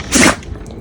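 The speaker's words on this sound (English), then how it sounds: "Bless you, Maxie." A dog sneezes once, a short sharp burst close by outdoors during yard work, followed by quiet background.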